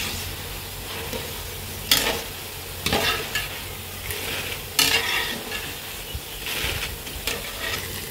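Boondi drops frying in hot oil give off a steady close sizzle, broken by several sharp stirring scrapes and splashes from a ladle as the batch cooks, and no one speaks.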